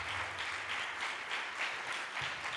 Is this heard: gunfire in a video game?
no